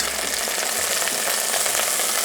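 Chicken frying in hot fat for a West African peanut stew: a dense, continuous, bright sizzle with crackling pops, close and loud, with no talking.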